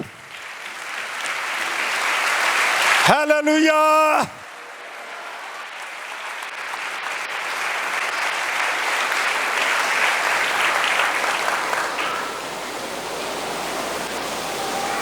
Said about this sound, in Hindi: किसी दा दिल कीता ही ताली बजाउण ते बजा लो।